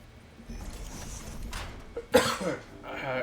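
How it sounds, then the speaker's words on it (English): A single sharp cough bursts out close to the microphone, with a quieter throat sound just after, against faint background hum and a few murmured sounds. "I really was trying to hold that cough"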